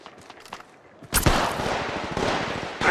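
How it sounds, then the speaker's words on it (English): Gunfire in Apex Legends, played on an iPad Mini 6 in a ranked match: faint scattered shots, then a sudden loud close burst of rapid automatic fire that continues to the end. "Shots fired!"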